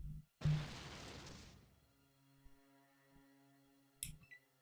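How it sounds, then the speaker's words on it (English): Dynamite goes off in the Fallout 2 video game with one sudden loud burst that rumbles away over about a second, followed by faint ticks and a short sharp click. "It's the first explosion."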